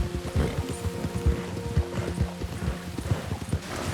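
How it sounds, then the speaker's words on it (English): An American Standardbred horse in Red Dead Redemption 2 clip-clops at a steady trot. The hooves fall in quick, regular close beats over a faint ambient hum, with no talk. "This is one of the rare horses for the American Standard Bred"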